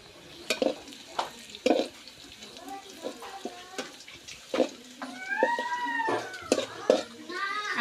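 Bay leaves hit hot oil for lentil dal and set off a light crackling sizzle, broken by clinks and scrapes of a spoon in the pan, with a voice and other high voices in the background.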